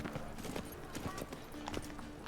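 Roach, a horse in The Witcher 3 video game, running with a steady clip-clop of hoofbeats under continuous background game sound, fairly faint throughout.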